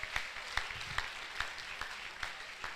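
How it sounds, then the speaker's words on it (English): A fairly quiet round of applause from the audience at a medical induction ceremony for a new MBBS class, with a few distinct hand claps standing out above a soft, thin patter. "Please give everybody a round of applause."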